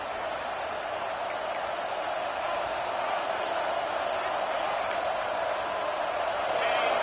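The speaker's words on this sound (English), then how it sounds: "this crowd trying to help keep them there" A steady, distant roar from a packed stadium crowd in a college football video game. A Texas vs Georgia matchup rumbles on as a constant wash of noise, with faint whoops and a sports commentator talking over it.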